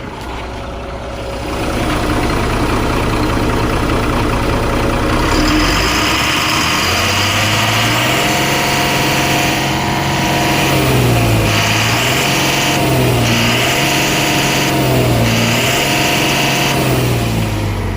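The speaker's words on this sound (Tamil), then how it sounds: "ஸோ வண்டி இப்போ ஸ்டார்ட் பண்ணி காமிக்கிறேன் பாருங்கள்." A 2018 ten-wheel 2518 BS4 truck engine cranks and fires up, then settles into a loud, steady close idle with a few rising and falling revs.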